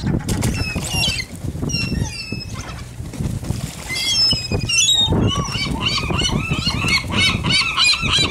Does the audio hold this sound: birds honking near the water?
yes